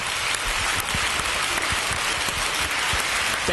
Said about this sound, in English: A round of applause again to all our award winners.